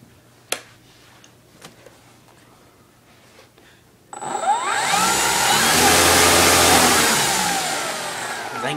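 A Dynam T-28 Trojan RC model plane's electric motor spins up to half throttle after a few faint clicks, becoming a loud, steady, high whine that swells and holds close by.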